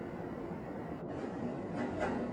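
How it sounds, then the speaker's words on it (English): A tram moves along rails with a low, steady rumble and faint rolling clatter, slightly rising in loudness toward the end. "The tram carried on, rocking slightly as it slowed again with Sector 20 approaching"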